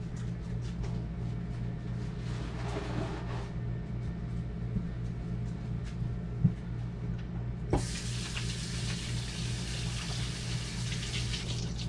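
A kitchen tap is turned on to wash hands during cookie baking. After a quiet stretch with small clicks, a steady rushing stream of water starts partway through and runs on evenly.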